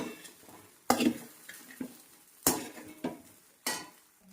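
Dhokla is stirred quickly in oil in a pan, producing a soft sizzle under several sharp utensil scrapes and clinks at irregular intervals, heard close and fairly quiet.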